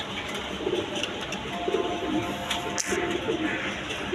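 Tulip pigeons coo softly in a loft among other pigeon breeds, low repeated calls under steady ambient noise and light chatter.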